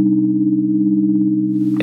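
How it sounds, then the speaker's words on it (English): A Nonlinear Labs C15 synthesizer plays a steady pure tone that hums evenly, a clean sustained sine wave with a soft reverberant tail, ending with a brief noisy click. "That's just a sine wave and a reverb."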